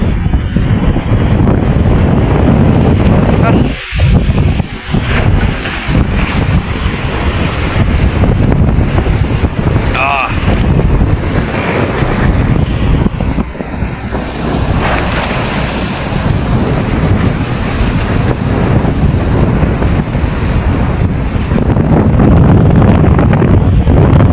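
Heavy surf and wind roar continuously at sea in heavy rain, with large waves crashing against a boat's hull; a sharp dip mid-way before the rush resumes, loud and close.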